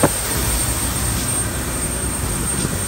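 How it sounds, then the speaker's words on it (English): A private jet's engines give a steady, loud broadband roar with a high whine running throughout, close by and unbroken. "Private jet."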